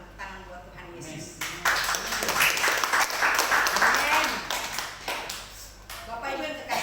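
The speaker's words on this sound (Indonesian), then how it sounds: "Tepuk tangan buat Tuhan Yesus." A church congregation claps their hands together in a burst of applause, moderately loud, while a voice keeps speaking over the clapping.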